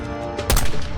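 A single loud gunshot crack from a sniper on an overpass in Call of Duty Black Ops 6, striking suddenly midway through a short moment of battle noise.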